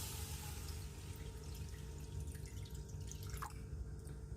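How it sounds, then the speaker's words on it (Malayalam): Water trickles and drips into a cooking pot while a sardine dish is being prepared, a faint, steady pour over low background hum with no talking. "ആ പാത്രത്തിലേക്ക് കുറച്ച് വെള്ളം ഒഴിക്കുകയാണ് കേട്ടോ."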